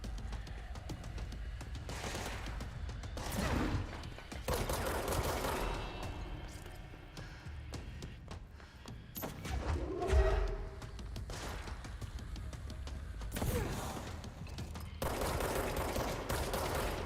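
Enemy gunfire crackles in bursts of repeated shots in the video game Control, coming in loud clusters with short pauses, over a dense, rumbling game soundscape.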